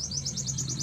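A fallen pigeon chick being hand fed chirps in a rapid string of thin, high, repeated peeps, close and clear.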